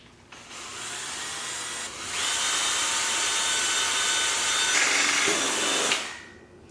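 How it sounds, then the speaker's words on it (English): A power drill whines steadily, its pitch rising as it bites through a solar panel's metal frame into wood, then runs hard for several seconds before spinning down and stopping. "And just drill out your hole"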